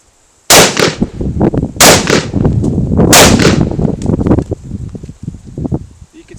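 Three sharp rifle shots ring out at a Tactical Games shooting event, each a loud close crack with a short echo. Talk runs beneath them, and the speech continues after the shots.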